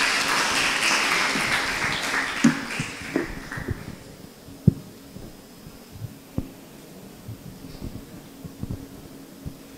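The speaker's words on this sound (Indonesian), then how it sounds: "Boleh tepuk tangannya." Loud, dense applause from an audience at an evening Catholic youth talk show in Kedaton, Tanjungkarang, fading over a few seconds into scattered claps, taps and low murmuring of the crowd.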